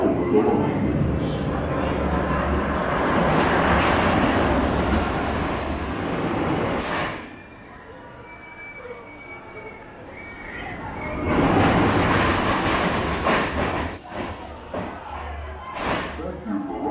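The Montezooma's Revenge roller coaster train at Knott's Berry Farm rumbles loudly into the station in two roaring, rushing passes with a quieter lull between them, and an announcement voice sounds over the ride noise.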